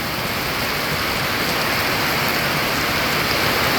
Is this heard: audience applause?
no